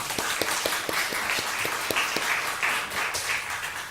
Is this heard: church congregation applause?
yes